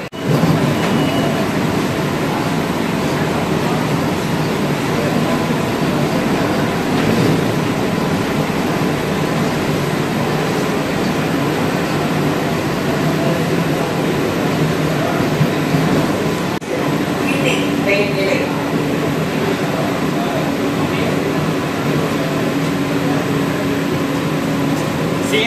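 A Chennai AC local EMU train runs between Chennai Beach and Chengalpattu, giving a loud, continuous rumble and rushing roar throughout, with faint higher squeals midway.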